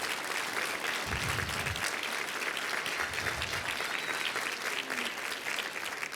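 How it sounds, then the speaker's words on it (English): A large audience at an evening startup demo day event gives a sustained round of applause, a dense, even roar of many hands clapping that holds steady throughout with brief low thumps partway through. "let's give a round of applause to events who've supported us in putting this together tonight"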